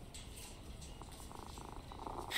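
A cat purrs in the game Sherlock Holmes Versus Jack the Ripper, a soft continuous rumbling pulse that stays close and steady throughout, with no voices.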